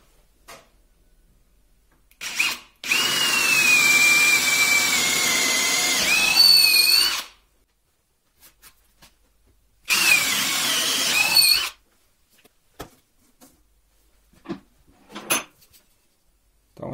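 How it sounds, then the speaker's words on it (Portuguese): A DeWalt DCD7771 brushless cordless drill bores into wood at fairly high speed in two loud, steady bursts of about four seconds and under two seconds. Short knocks and handling clicks fill the gaps, and nobody speaks. "fura com extrema facilidade. A máquina tem força de sobra para essa broca aí."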